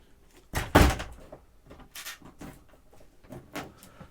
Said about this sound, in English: There are actually shower doors, so this comes across so that we can keep that just as a shower area